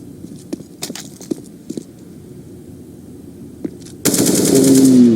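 Gunfire in a competitive shooter match, Counter-Strike at a 2017 esports league: scattered sharp single shots and clicks, then a loud sustained burst of rapid automatic fire at the end.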